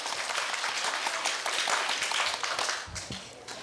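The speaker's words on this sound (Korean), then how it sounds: "큰 박수 부탁드립니다." Audience applause at a university speaking contest as a middle-school student speaker is introduced, steady dense clapping filling the whole stretch, loud and continuous with a slight fade near the end.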